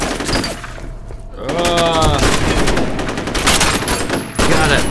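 Shotgun blasts and other gunfire in the first-person shooter game F.E.A.R., dense loud booming shots overlapping with thuds and crashing impacts, nearly continuous across the stretch of combat, a voice faintly mixed in.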